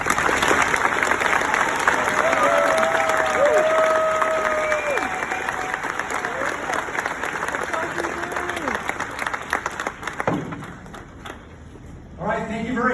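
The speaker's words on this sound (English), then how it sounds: "So once again, a round of applause again." An audience at a 2024 high school graduation ceremony applauds warmly after a teacher's speech. The clapping is steady and sustained and fades out near the end, where a voice begins speaking.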